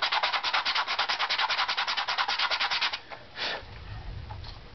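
Sandpaper rubbed back and forth on a wooden guitar back plate, a fast, even rhythm of close rasping strokes that stops after about three seconds, followed by a couple of softer scrapes.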